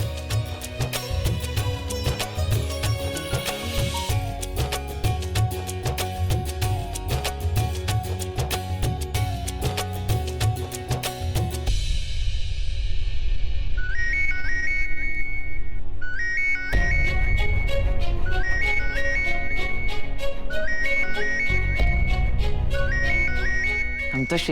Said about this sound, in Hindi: हम तो शशि जी के पति है ना, तो उनकी माँ का फोन तो उठा ही सकते हैं।